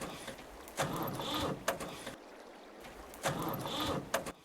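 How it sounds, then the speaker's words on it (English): A simulated tractor engine cranks and fails to catch on a drained, dead battery in a Farming Simulator 22 breakdown mod, with two separate grinding start attempts separated by a short pause and no voices. "That's a custom sound where the engine's not starting on it."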